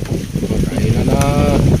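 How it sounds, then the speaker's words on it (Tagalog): Strong storm wind rushes and buffets outdoors, a loud, constant roaring gust noise with rumbling low end across the whole moment, and a faint voice-like tone briefly rising above it. "lumakas na yung hangin"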